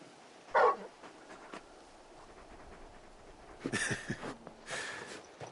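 Torgal, the large wolf-like dog companion in the video game Final Fantasy XVI, lets out a sharp whimpering yelp, then softer whines and snuffling sounds later, all set against a quiet ambient game background.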